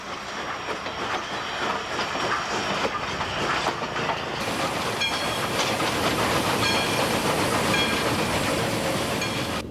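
An old steam locomotive rolls along a forest route, a continuous loud rumble of wheels on rails with a rhythmic clickety-clack and a hiss of steam, no voices.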